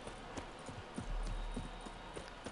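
Horse hooves clip-clop at a slow, uneven walking pace, fairly quiet and close, with faint background ambience, in The Witcher 3: Wild Hunt, Blood and Wine.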